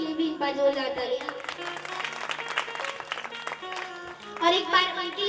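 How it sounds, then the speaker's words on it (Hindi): An audience at a Bhagwat Katha religious gathering claps loudly and steadily, with a music or amplified-voice tone running underneath. "बच्चों के लिए भी एक बार जोरदार तालियां"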